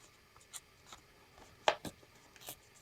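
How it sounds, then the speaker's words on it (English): Cardstock or paper torn by hand in several short, dry rips, with one sharper tear near the middle; close and quiet, no voices. "I like to hand tear rather than use a ruler for some things"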